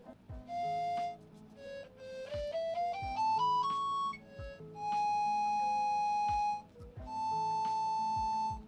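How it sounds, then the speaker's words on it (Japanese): An Ele-Fue electronic recorder gives clean, pure synthetic tones, a few held notes and a quick rising scale of beeps, fairly quiet with faint background noise between phrases. "エレ笛はどなたでも手軽に演奏を楽しむことができる電子リコーダーです。"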